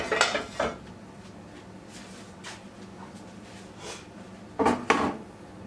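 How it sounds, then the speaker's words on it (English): A hot cooking pot is moved across a surface, producing a couple of scraping, knocking bursts at the start and again near the end, close and fairly loud, with quieter handling in between. "Let me get this hot pot back over here so I won't be touching it"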